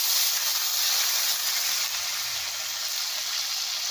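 Chopped tomato hits hot oil tempering in a pan while cooking a Bengali jackfruit and prawn dish, giving a steady, loud, continuous sizzling hiss that holds for the whole stretch with no talk.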